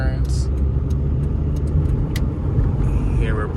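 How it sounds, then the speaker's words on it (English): A cheap 2000 Saturn car drives along with a steady low engine and road rumble heard from inside the cabin, constant and fairly loud, with a few faint clicks and rattles. "So it feels so funny driving this little car."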